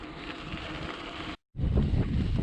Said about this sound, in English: the wind is kicking up pretty good in all directions actually